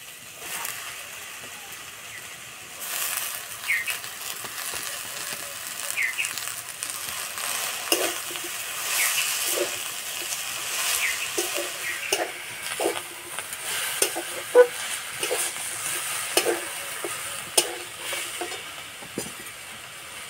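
Washed bottor greens hit a pan already holding mustard paste, sizzling and frying for about twenty seconds while a utensil stirs and scrapes with scattered knocks, fairly close and steady.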